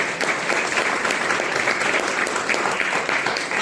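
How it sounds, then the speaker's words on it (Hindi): A short, hearty burst of applause from a seminar crowd at a business plan presentation, dense continuous clapping lasting a few seconds. "तो एक बार जोरदार तालियां हो जाए"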